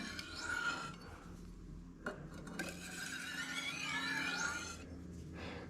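A cutting tool edge is honed on a very hard India sharpening stone, a steady rasping, scraping rub with short pauses, close and fairly quiet, with no talk.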